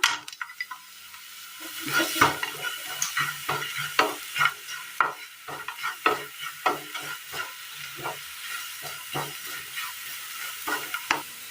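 Grated carrots and jaggery sautéing in a pan for a Kerala sweet, with a spoon scraping and tapping the pan in a steady rhythm over a soft sizzle, close and without speech.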